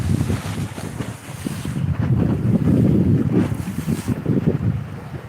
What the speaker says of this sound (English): Ocean trying to drag me in, y'all.